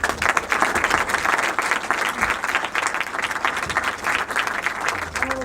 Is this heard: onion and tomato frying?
no